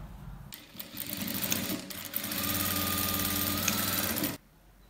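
A sewing machine stitches the seams of a box pleat midi frock, starting with a few short bursts and then running as a continuous fast whirring hum for several seconds before stopping abruptly.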